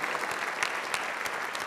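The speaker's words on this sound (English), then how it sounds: "Round of applause to these guys." Audience applause for the Blue Chip Chorus at its 2017 barbershop annual show, a fairly soft but dense, even patter of many hands clapping throughout.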